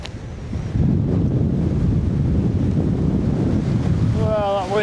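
Bitter wind roars across a mountain summit at 632 metres on Starling Dodd, a loud, steady buffeting rush against the microphone, with a brief whistling tone near the end.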